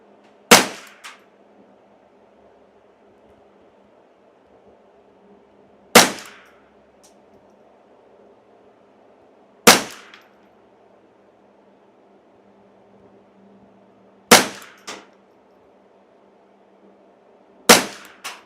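Custom-shop Ruger 10/22 rifle firing CCI standard velocity .22 rounds: five sharp, loud reports spaced several seconds apart over a quiet background hum, each with a brief ringing tail.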